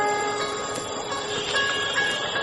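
Train noise at a railway station, a steady mechanical rumble and hum with sustained tonal whines running throughout, fairly loud and continuous with no talk.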